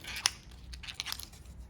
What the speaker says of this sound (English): You have to get scissors to cut these little fellas out.